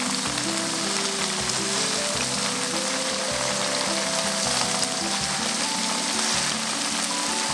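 Tofu and fish cakes pan frying in oil, a steady, dense sizzle like heavy rain that holds at an even loudness from start to finish, with a faint tonal line underneath.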